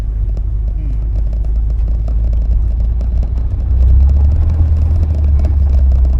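A 1979 Porsche 924 engine with a freshly fitted fuel pump rumbles close and loud, swelling into a heavier rev partway through; heard from inside the car.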